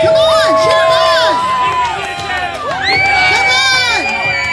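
Crowd of adults and children cheering and shouting at a pie eating contest, loud and continuous, with excited whoops and voices rising over one another throughout.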